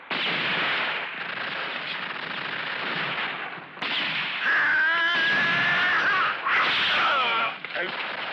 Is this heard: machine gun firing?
yes